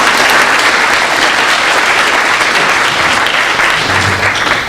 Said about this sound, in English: Let's give all of you a round of applause.